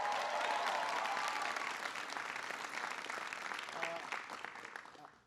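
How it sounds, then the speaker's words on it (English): A large crowd applauds at a political rally welcoming a congressman, sustained distant clapping and cheering that gradually tapers off, quiet overall. "Give Bill a big round of applause."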